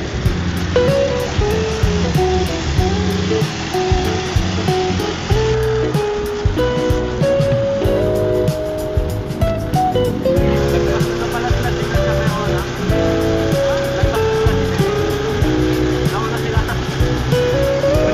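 A motor tricycle ride at an adventure park, with a steady engine drone and road rumble throughout and loud talk from riders over it.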